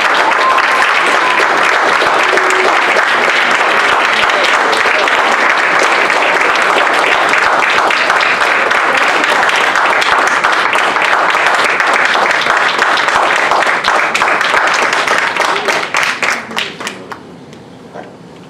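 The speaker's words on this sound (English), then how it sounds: "Let's give God a hand clap." A church congregation claps hands for God during a Christian fellowship service, a dense, sustained round of applause filling the room, steady and loud before thinning out and fading in the last few seconds.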